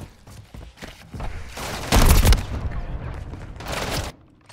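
Slow sniper rifle shots in Modern Warfare 3, with a loud booming report near the middle and a few lighter shots around it over faint game ambience.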